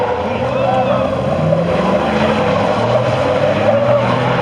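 Lifted truck at a Kearney Park truck meet spinning and skidding its front tire, a loud, rough engine roar with tire scrub and screech, close by, with crowd voices mixed in.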